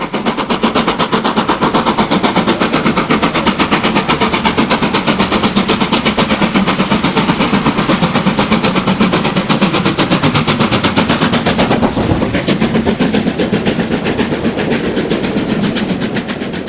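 A Stanier steam locomotive hauling the Cheshireman railtour storms past Totley at speed, its rapid, loud exhaust beats hammering continuously throughout with heavy rail rumble beneath.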